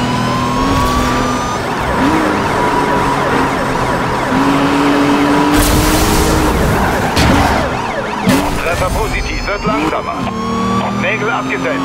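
A police car siren wails through a cop pursuit in Need for Speed Rivals, its rising and falling tones riding over constant roaring engine and road noise, with a voice talking over the chase.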